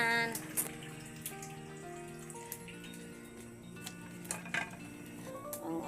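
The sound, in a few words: water running while washing kangkong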